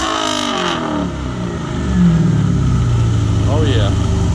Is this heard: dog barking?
no